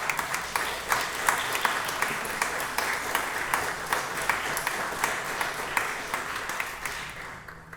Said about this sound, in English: May we have a round of applause for her,